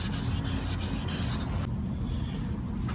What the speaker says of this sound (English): the sanding part, is probably the most important part when it comes to headlight restoration